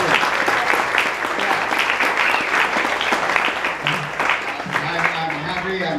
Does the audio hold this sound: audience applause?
yes